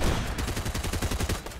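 A rapid burst of sharp gunshots from the Explosive Repeater Rifle in the video game Fortnite fires in quick succession, a dense rattling volley at moderate level with no talking.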